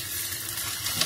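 Whole spices and onion sizzle in hot oil in a pan on the stove, giving a continuous close hiss and crackle throughout the brief moment.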